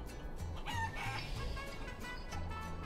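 Cartoonish chicken clucks and squawks from the video game Guacamelee, repeating in short bursts over a steady game backdrop, with no talking.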